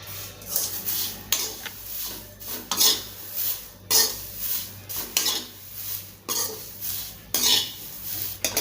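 Moringa leaves dry-roasting in a pan, with a utensil scraping and stirring in repeated rhythmic strokes, close and fairly loud, with no talking.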